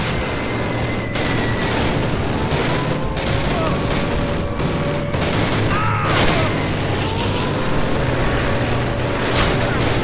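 Sustained gunfire fills a World War II battle in the first Call of Duty game, with rapid bursts, booming impacts and dense rattling layered continuously throughout.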